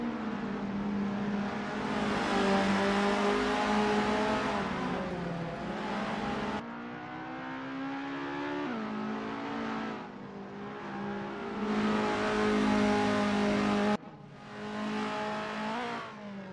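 An Isuzu Bellett GTR race car in Assetto Corsa on a practice lap at Sportsland SUGO, its engine droning loud and close as it revs up through the gears, with abrupt drops at each shift and no talking.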